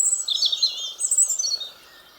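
Birds singing in a cottage garden: bright, warbling chirps and trills in a quick, continuous phrase, close and clear over a quiet background, then fading.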